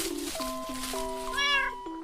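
A cat gives one drawn-out, wavering meow in a shifting tonal line, heard clearly and close over a faint steady background.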